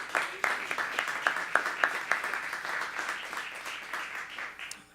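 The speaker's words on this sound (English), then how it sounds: "So big round of applause to everyone for that" Applause from an audience at a music lecture, a steady patter of many hands with sharper individual claps standing out, moderately quiet and tapering off over a few seconds.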